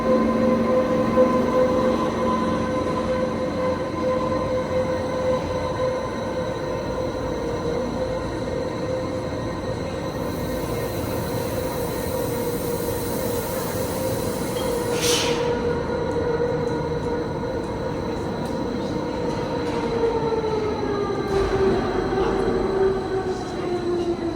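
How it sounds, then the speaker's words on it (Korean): A train to the Jungfrau in Switzerland rolls steadily along the track through a tunnel with a constant rumble and hum, brief wheel squeals and high screeching now and then, heard from inside the carriage. "융프라우 가는 열차"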